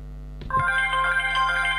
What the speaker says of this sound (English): set its own personalized ringtone for each contact